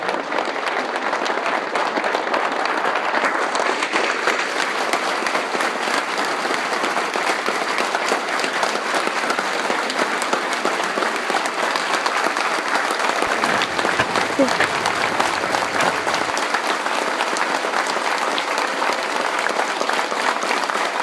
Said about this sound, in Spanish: Los invito a hacer un minuto de aplauso.